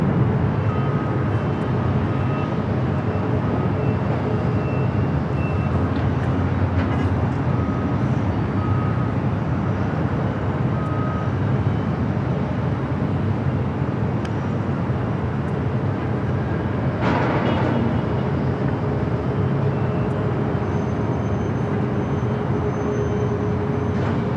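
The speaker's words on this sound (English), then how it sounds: "up next is that JetBlue A321neo long range coming in from JFK" A JetBlue Airbus A321neo long range airliner, arriving from JFK, comes in to land at LAX with a loud, steady jet engine roar that rumbles continuously through the whole stretch, close and without talk.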